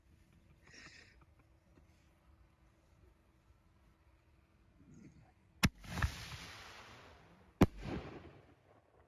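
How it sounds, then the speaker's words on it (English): Scatter bomb firework canister shells bursting, two sharp loud bangs a couple of seconds apart, each followed by a crackling, hissing scatter that fades, outdoors with quiet between. "So this will be scatter bomb number 4."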